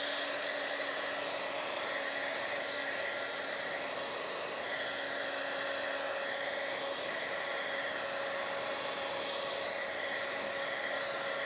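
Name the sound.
hair dryer drying ink on a journal page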